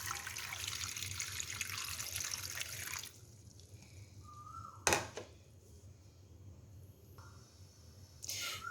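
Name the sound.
water poured into pan with raw mangoes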